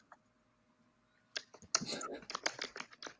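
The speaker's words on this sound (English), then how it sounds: "Max, your keyboard is loud" Rapid clicks of a loud mechanical computer keyboard being typed on, starting after a quiet second and running as a dense, close burst of keystrokes to the end.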